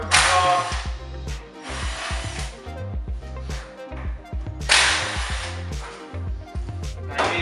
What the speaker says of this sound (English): Timing cover comes off.